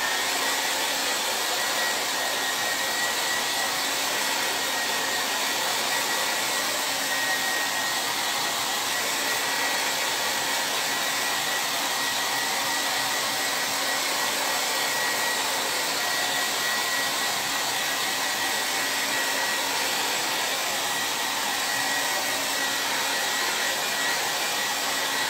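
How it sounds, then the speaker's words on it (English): A hair dryer blows steadily on craft ink over a T-shirt transfer sitting on a mat, giving a close, constant whooshing roar with a faint motor whine for the whole stretch, unbroken and without any talking. "Now I'm going to blow dry it before I pull it off of the mat."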